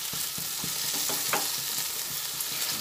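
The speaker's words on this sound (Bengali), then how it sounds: "এবার একটু ভালোভাবে নাড়াচাড়া করে নিই।" Sesame paste being stirred into okra in a frying pan for til vendi: a steady sizzle under repeated scraping strokes of a spoon against the pan, close and fairly loud, with no talk.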